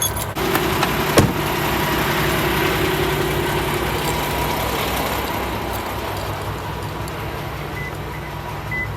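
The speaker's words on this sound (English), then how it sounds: "Alright, let's go move the pickup truck." A pickup truck engine runs at a steady idle, close and continuous, with a brief click or clunk near the start and no talking over it.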